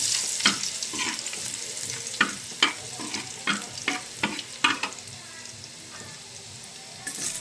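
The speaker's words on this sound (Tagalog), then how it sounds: "Nagigisa na ako guys." Onions sautéing in reused cooking oil left over from morning frying, a steady sizzle broken by repeated sharp scrapes and clacks of a spatula stirring the pan, close and fairly loud, with no talking.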